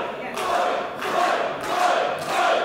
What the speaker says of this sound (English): The crowd are trying to get them to fight.